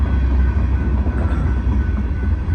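A Norfolk Southern sand train passes on railroad tracks in snowy conditions, a close, steady heavy rumble of rolling freight cars with no voices.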